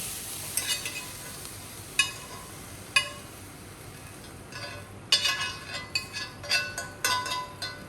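Broccolini sizzles in a hot EngelElzen frypan, a steady frying hiss broken by sharp clinks and scraping stirs of a utensil against the pan, growing busier toward the end, close and without talk.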